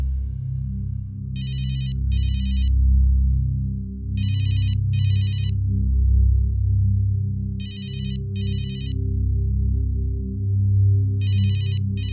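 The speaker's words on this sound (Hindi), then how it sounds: "सिमी तेरा फोन आ रहा है।" A mobile phone ringtone plays in pairs of bright electronic bursts, repeating four times at a steady interval, loud and close over a low background hum, with no speech.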